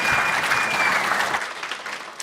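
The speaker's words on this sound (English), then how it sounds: "Please give my panelists a round of applause as they make their way off stage." Conference audience applauding panelists leaving the stage at an impact report launch, a full, even round of clapping that gradually thins toward the end.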